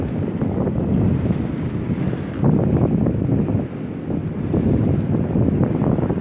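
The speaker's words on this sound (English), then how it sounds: "It's really windy." Heavy wind buffets the microphone in loud, continuous low rumbling gusts at the Mazon Creek fossil site in Illinois, with no voices.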